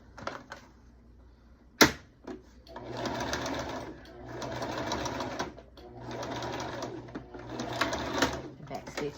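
A sewing machine stitches a car seat cover in three long steady runs, separated by short pauses and a sharp click near the start, with faint talk underneath.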